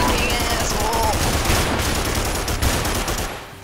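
Dense, continuous gunfire from a sniper rifle in the dinosaur shooter game Primal Carnage, a loud sustained barrage that fades slightly toward the end, with no clear talk.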